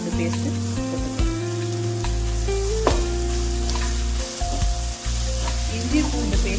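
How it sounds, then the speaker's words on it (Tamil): Ginger-garlic paste sizzles loudly as it is sautéed in a hot pan for ghee rice, a continuous close frying hiss broken by the scrape and clink of stirring. "இஞ்சி பூண்டு பேஸ்ட்டை நல்லா வதக்கிக்கணும்."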